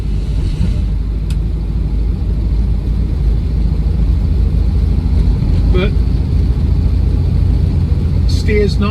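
A 1959 Alvis TD21 FHC Series 1 with manual gearbox drives along with a steady, loud engine drone and road rumble throughout, under a brief spoken word.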